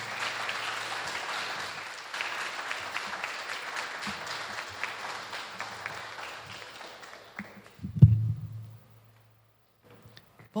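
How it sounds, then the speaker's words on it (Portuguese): A church congregation applauds during an evening worship service, a broad sustained wash of clapping that fades out after about seven seconds, followed by a dull thump and near silence. "Você pode aplaudir ao Senhor nessa noite"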